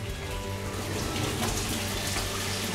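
Water runs steadily from a tap at the wash station of a traditional Japanese public onsen bath, a close, continuous splashing hiss with no speech.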